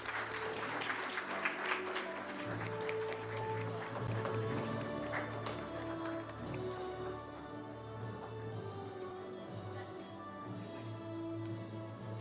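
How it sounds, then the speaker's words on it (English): An audience applauds at a water sustainability award ceremony, producing a dense, sustained clapping that stays fairly even and fills the hall, with some voices underneath. "A big round of applause."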